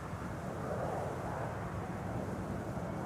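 A KLM airliner bound for Edinburgh rumbles at Amsterdam Schiphol, a steady broadband roar heard alone at moderate distance with some wind buffeting.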